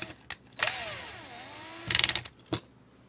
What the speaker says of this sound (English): Let's bring the automatic screwdriver because this is too many screws.